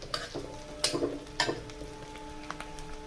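Chopped green chili and onion fry with a soft, quiet sizzle, broken by several sharp metallic stirring clanks and taps against the pan.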